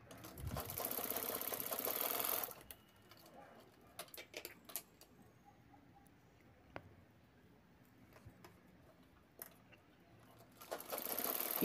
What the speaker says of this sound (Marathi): त्यानंतर एक कोपरे शिवून घ्यायचे आहेत.